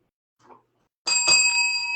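A bicycle-style bell rings once, bright and metallic, with a sustained shimmering tone that hangs on after the strike; a brief soft sound precedes it in an otherwise quiet room.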